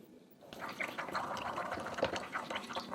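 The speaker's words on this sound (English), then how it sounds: "In a bowl, mix together the white pepper, soy sauce, and oyster sauce." White pepper, soy sauce and oyster sauce get stirred together in a bowl, with soft wet sloshing and light clinks that begin after a brief silence and carry on steadily at close range.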